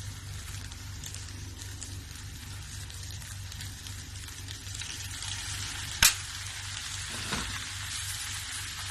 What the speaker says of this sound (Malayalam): 2 കൈ ഉപയോഗിച്ച് തന്നെ ഹൈ ഫ്ലെയിമിൽ നന്നായി പൊക്കി മിക്സ് ചെയ്യുക.